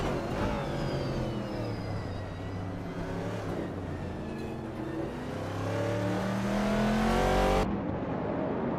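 Racing game start at Jerez GP with a vintage Trans Am car and a 1970 Ford Mustang Boss in the field: a dense, continuous roar of several engines revving and whining in rising pitch sweeps, loud and close.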